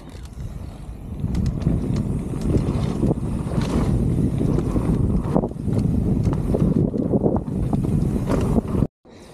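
Steady wind roars across the microphone throughout a mountain bike ride at a dirt jump park, a broad continuous rush with gusty swells before cutting out abruptly near the end.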